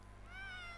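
A cat meows once inside the video game Gravity Rush 2, a short, close, rising and falling cry with a bright tonal sweep over steady game background hum.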